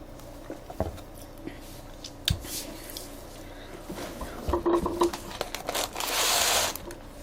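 A lid being peeled off a fried and seasoned chicken takeout container, with crinkly plastic rustles and tugs building to a louder tearing crackle near the end, close up and without talk.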